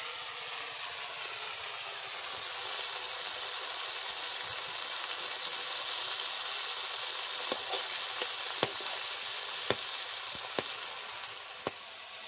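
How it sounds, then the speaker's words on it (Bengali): About 200 grams of washed shrimp go into hot oil in a wok, giving a steady, loud, close sizzle throughout, with sharp clicks of a utensil against the pan appearing toward the end; no talking. "200 গ্রাম চিংড়ি মাছ আগে থেকে ভালো করে ধুয়ে রাখা আছে, দিয়ে দিচ্ছি কড়াইতে।"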